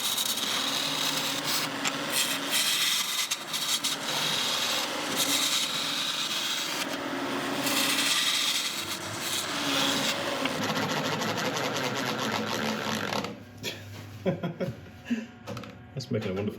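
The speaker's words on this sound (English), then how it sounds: "I think it's the two polished surfaces rubbing against each other just slightly" Two polished resin surfaces rubbing together on a spinning woodturning lathe, a continuous raspy, grinding friction over a steady motor hum that later thins and turns choppy, with a voice talking over it.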